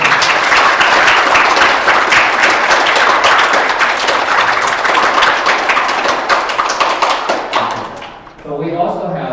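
Students and guests at an intermediate school assembly on world religions break into a long, loud round of applause, dense continuous clapping that holds for several seconds before thinning out, then a speaker begins talking over a quieter room.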